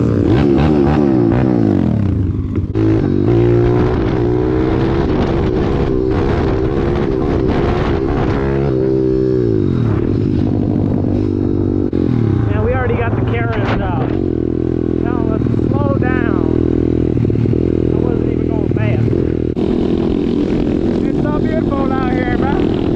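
Pit bike engine running while ridden, a steady buzzing drone with shifting pitch as the throttle rises and falls, loud and close throughout, with a person talking over it at times.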